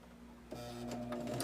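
A sewing machine starting up to sew quilt block seams, a low steady hum that shifts into a faster whirring drone with light ticking from the mechanism, close and fairly quiet.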